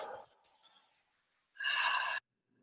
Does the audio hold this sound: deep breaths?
yes